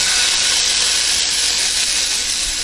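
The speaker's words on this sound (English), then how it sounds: "And then let the frying process start." Loud, steady broadband hiss of turkey burgers frying in an oiled hot pan, continuous and close, with no talking.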